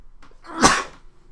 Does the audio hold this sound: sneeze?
yes